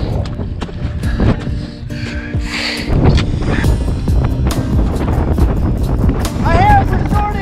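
Strong wind buffets the microphone on the rocky summit of Cross Mountain (Cupola Peak) near Sitka, Alaska, loud gusty rumbling with scattered clicks and rustles throughout.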